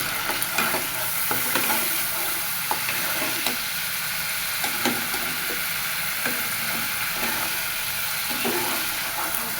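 Spices for desi chicken curry sizzle steadily in hot oil, with a spoon scraping and stirring the pan in regular strokes, close and fairly loud, with no talking.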